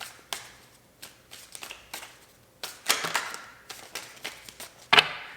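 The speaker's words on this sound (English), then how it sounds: "One more here, 4 micro shuffles." Tarot cards get several quick micro shuffles, with crisp riffling bursts and light taps in an uneven rhythm, close and clear, ending in one louder snap.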